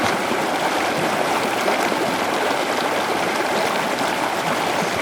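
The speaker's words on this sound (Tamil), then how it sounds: "இங்க பாத்தீங்கன்னா நம்மளுக்காக நீர்வீழ்ச்சி அருவிகள் சத்தம் ரொம்ப கேட்டு." A forest waterfall rushes loudly and continuously, a dense, unbroken roar of falling water with no voices.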